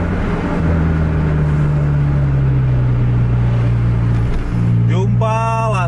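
A racing bus driven at full throttle, its engine holding a loud, steady drone under continuous road rumble, with a brief rising tonal whine near the end.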